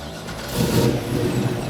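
A 1969 Camaro build fires up, the engine catching with a swelling rumble that settles into a steady, close idle over under two seconds.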